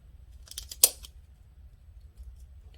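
A single crisp snip of scissors cutting through orchid roots during plant division, preceded by a couple of soft handling rustles, close and otherwise quiet.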